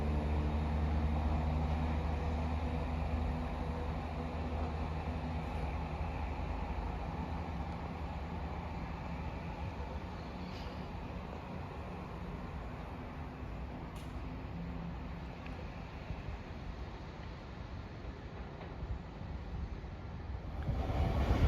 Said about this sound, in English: departing out now is the slightly delayed 1553 ScotRail service from Perth to Edinburgh Waverley